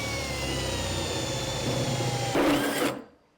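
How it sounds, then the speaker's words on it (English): A drill bores through metal troughs during an off-grid solar system build, a steady close whine with a strained grinding edge that swells briefly near the end before cutting off abruptly. "we have everything drilled out now"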